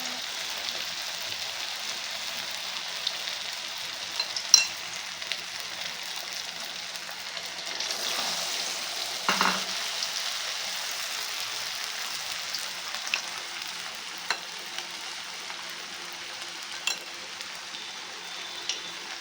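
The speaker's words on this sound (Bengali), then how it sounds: "এবার আমি এটাকে তেলে ছাড়বো।" Butterfly chicken frying in hot oil gives a faint, even crackle and hiss that rises briefly in the middle, with small pops and clicks scattered throughout.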